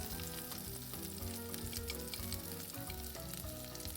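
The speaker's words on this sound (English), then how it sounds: "I'm adding some olive oil to the pot, and I'm going to start sauteing my peppers, onion, garlic, and tomato" Peppers, onion, garlic and tomato sautéing in olive oil in a pot for sofrito, a continuous dense sizzle and crackle heard close and fairly quiet, with no talking.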